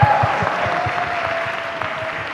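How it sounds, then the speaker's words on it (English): Audience at a keynote session clapping, a steady dense wash of applause filling the room from start to finish, with a faint voice briefly audible beneath it. "And also a big round of applause to Rachita."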